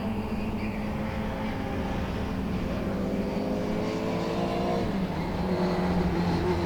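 Mini Se7en race cars at Thruxton circuit give a continuous engine roar as a pack passes and accelerates, with overlapping revving tones rising and falling at a moderate distance.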